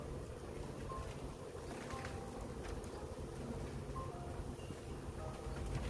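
Wind blowing steadily outdoors on a mild spring day around beehives, a continuous broadband rush with gusty fluctuations and no voices.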